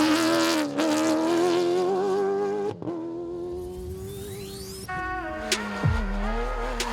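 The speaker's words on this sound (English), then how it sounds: "Ekstrom says he is loving being back in a V8 car and the sound of that engine." Ford V8 rally car racing on a stage, its engine screaming loudly and close with rising and falling revs through gear changes, a brief cut in the middle, and tyre noise near the end.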